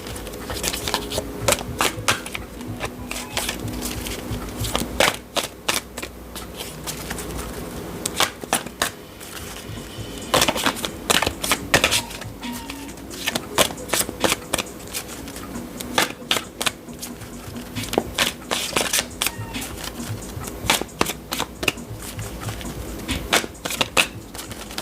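Shiny tarot cards are handled and shuffled up close, with repeated riffling bursts and soft slaps in an uneven rhythm, with brief faint vocal sounds between them.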